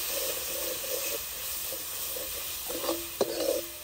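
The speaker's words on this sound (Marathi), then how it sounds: "धना पावडर, लाल मिरची पावडर आणि कांदा लसूण मसाला टाकून घेणार आहे. हे चांगल्या प्रकारे परतून घ्यायचे." Ground spices (turmeric, coriander powder, red chilli powder and onion-garlic masala) sauté in a pan with a soft sizzle, while a spoon scrapes and stirs in short strokes, closing with a sharp clack near the end.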